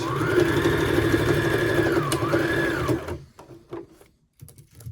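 A domestic sewing machine runs steadily for about three seconds as it stitches a seam on a tiered maxi skirt, with a brief pitch dip midway, then stops. Short handling clicks and rustles follow in near silence.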